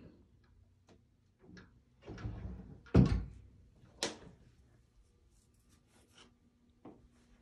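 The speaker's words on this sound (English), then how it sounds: "And you have a bifold door for your linen closet." A bifold linen closet door in a house bathroom is moved, giving a few wooden knocks and rubbing clatters, with the loudest thud in the middle and a sharper knock shortly after, all fairly close.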